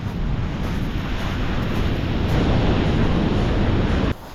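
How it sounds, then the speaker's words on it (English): Strong wind gusting across the shingle of Chesil Beach at Abbotsford, with surf audible beneath it. The roar stays loud and steady, then drops off suddenly near the end. "The wind is blowing here."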